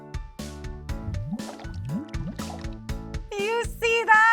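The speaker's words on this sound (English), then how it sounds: "I have submerged the glass head first into the water. Nothing happens. But when I tilt it just a little bit," Air bubbles escape from a drinking glass held upside down underwater and tilted slightly, giving a run of wet, hollow glugs and gurgles that end in a louder, burbling release, close up with no talk.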